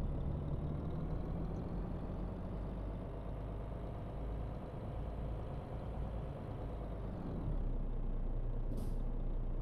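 An Iveco truck in Euro Truck Simulator 2 idles with a low engine hum, then its air brakes release a sharp hiss near the end, loud over the steady drone.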